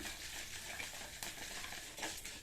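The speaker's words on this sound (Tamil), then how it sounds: "இப்போ பருப்பு ஓரளவு பொன்னிறமாக வறுபட்டிருக்கு" Lentils and fenugreek seeds dry-roasting in a pan, a faint continuous rustle and crackle with light stirring scrapes throughout.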